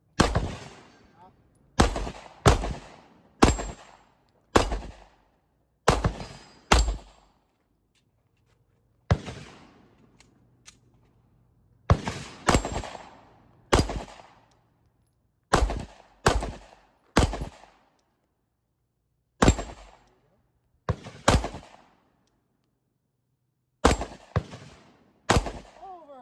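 Polish Beryl 5.56 NATO AK-pattern rifle in a competition stage, fired as loud sharp single shots and quick doubles with short pauses between groups, very close, with no talking.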